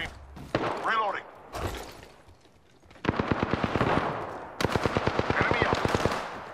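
Rapid automatic gunfire in Apex Legends rattles in two long, evenly spaced bursts of loud shots striking the player, with game voice lines and effects before them.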